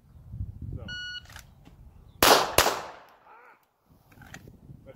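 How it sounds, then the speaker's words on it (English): A shot timer beeps during a USPSA pistol drill, then two loud pistol shots crack in quick succession, with faint talk in the background. "First shot was dead on, but then I didn't control the gun."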